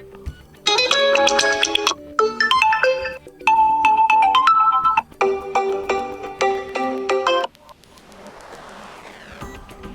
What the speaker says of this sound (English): select your new ringtone for alarm sound from the list